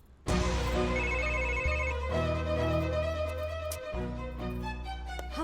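Telephone ringtone playing continuously as a loud, close melodic electronic tune with repeated note patterns.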